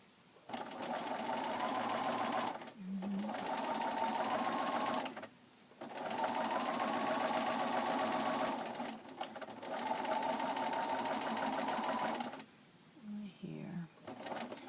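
Sewing machine stitching a pocket seam during free-motion sewing, running in four long steady bursts of even whirring with short pauses between, close and clear.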